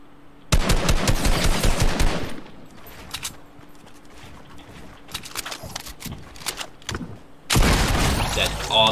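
Fortnite gunfire comes in loud, close bursts of rapid automatic shots, two long volleys at the start and end with scattered single shots between, and someone talking briefly in the gap.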